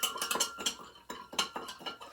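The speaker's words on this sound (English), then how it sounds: "I'm gonna stir it with my knife." A knife stirs salt into a container of water with quick, light clinks and scrapes in an uneven rhythm, close and fairly soft.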